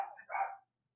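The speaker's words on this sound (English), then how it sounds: "My dog barking." A single dog bark, short and fairly faint, heard indoors at a moderate distance with silence following.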